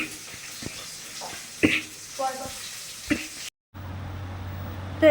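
Water goes into a pot of lentil-ball curry on a home stove: scattered metallic clinks and stirring, a brief silence, then a steady rushing pour, with some talking in the background.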